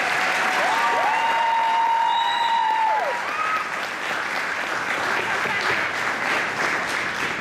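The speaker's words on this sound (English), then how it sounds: "please put your hands together for the President and the Vice, because they're doing a great job." Sustained applause at a JROTC dining-in banquet, honoring the cadet president and vice president; a dense, steady wash of clapping fills the room for the whole stretch, with loud cheering whoops rising over it early on.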